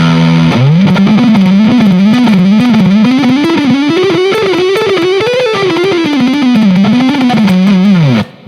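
Ibanez electric guitar played through its neck humbucker pickup with a distorted, effects-laden tone, a continuous melodic lead line of sustained notes bending up and down, loud and alone for about eight seconds before cutting off.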